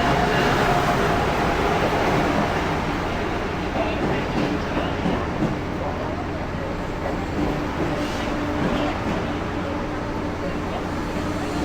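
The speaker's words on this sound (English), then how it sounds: "Here's our train." An Amtrak Acela train pulls into a station, its loud rumbling roar and rolling rail clatter filling the platform continuously, with voices faintly mixed in beneath the train noise.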